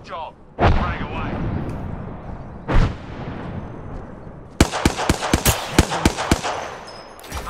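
Frag grenade blasts in the video game Apex Legends, heard as a loud boom early on, another shortly after, then a rapid cluster of sharp bangs and gunfire toward the end, with game voice lines around them.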